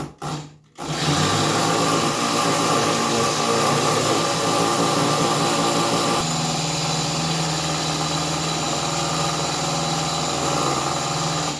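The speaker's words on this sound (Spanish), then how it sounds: "lo tratan de voltear para que las aspas de la licuadora cojan todas las superficies gruesas" A kitchen blender pulverizes eggshells for home compost, its motor whirring loud and steady after a brief start, a constant close drone with a slight change in tone partway through and no voices.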